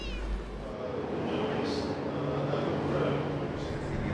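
A cat meows a few times, fairly faint, over a low steady background hum.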